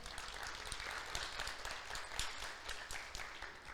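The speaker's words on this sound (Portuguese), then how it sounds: "Você pode aplaudir o Senhor?" A church congregation applauds together, a steady wash of many hands clapping at moderate loudness, sustained for several seconds with slight swells and no speech over it.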